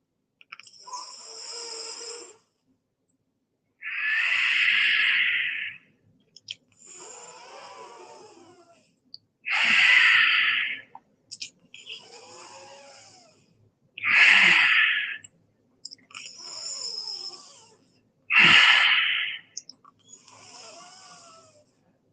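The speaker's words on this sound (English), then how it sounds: "breathe through the clenched teeth and close the mouth and breathe out through the nose" Shitkari breathing exercise: repeated loud hissing breaths drawn in through clenched teeth, each followed by a softer, longer exhale through the nose, in a slow steady rhythm of about six cycles, close and alone.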